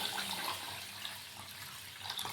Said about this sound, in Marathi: त्यामध्ये आता पाणी टाकायचं,